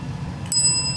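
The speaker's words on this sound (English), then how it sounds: "Ring the bell." A ten-week-old dachshund puppy strikes a service bell once, giving a bright, close metallic ding that rings on and slowly decays.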